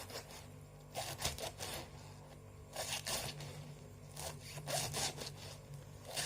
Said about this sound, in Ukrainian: Для нього я беру китайську капусту і нарізаю її на смужечки.